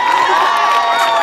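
Live audience applause and cheering for a singer, a dense, steady wash of clapping with whoops and shouts throughout, loud and close.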